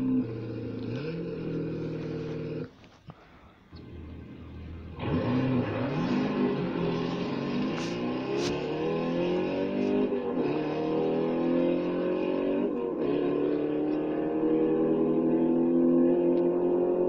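A Corvette engine revs hard through a small speaker, the pitch rising and falling in repeated surges with a brief drop in the middle, loud and continuous.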